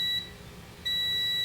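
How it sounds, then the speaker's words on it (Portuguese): A multimeter on its continuity range beeps during testing of a Samsung A01 phone board that won't power on: two steady, loud electronic tones, one short and one longer after a brief pause, with no talking. "Deixa eu medir aqui na escala de continuidade. No bip, vocês vão escutar aí."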